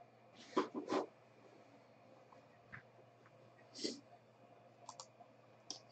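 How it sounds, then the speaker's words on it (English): A few sharp mouse clicks spin a team randomizer during a Crown Royale football card box break, sounding as separate clicks spread over several seconds against a quiet room hum. "So 3 clicks, we'll go from smallest to largest"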